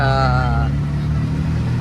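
Road traffic on an expressway-like road rushes past in a steady, loud roar, with a brief tonal whine at the start fading into broadband engine and tyre noise.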